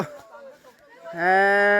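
A big Thai cow lets out one loud, close moo that swells and holds to the end, after quieter grunting sounds.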